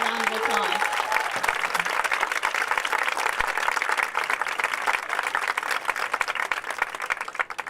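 Applause from an audience at a varsity sports awards ceremony, a dense, steady clapping that fills the room for several seconds after a voice briefly trails off at the start.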